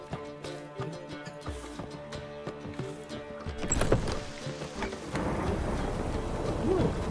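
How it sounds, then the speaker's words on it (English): Rain and thunder in the video game The Witcher 3: a soft, steady patter of rain with hoof-like clops early on, then a rolling thunder rumble building and the rain thickening into a fuller hiss. "Ooh, rain."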